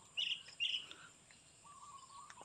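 A bato-bato bird calls twice in short, high, clear chirps in a rural provincial garden setting, faint and somewhat distant over quiet background hum and a thin whistling tone, with no talking.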